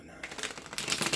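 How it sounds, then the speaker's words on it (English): Tarot cards being shuffled by hand during a Gemini reading, a quick papery riffle of soft flicks and slaps that grows denser and louder toward the end, close and brief with no talking. "Let me get a couple of more shuffles in."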